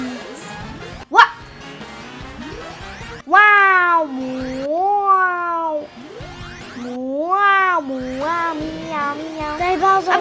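Cat Peach meowing in the video game Mario Kart 8 Deluxe, a series of drawn-out rising and falling meows, loud and close, alternating with other short yips and game sounds.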